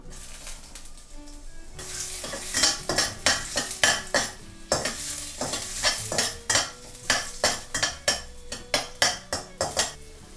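Minced garlic sizzles in a hot pan with a little leftover oil while a utensil scrapes and stirs repeatedly in a steady rhythm, close and clear with no talking.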